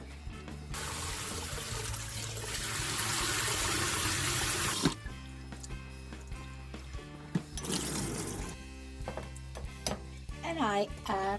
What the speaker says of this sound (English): I toss it very gently with the fingers using some coarse salt and rinse it